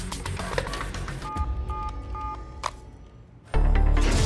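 A telephone is dialed in a Hindi TV comedy, giving a short run of quiet keypad tones over background murmur, followed by a sudden loud burst of noise at the end.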